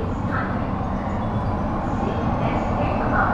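Mumbai Metro Line 3 underground train in motion, a steady low rumble and rolling hum inside the carriage with faint higher whines and noise swelling at times.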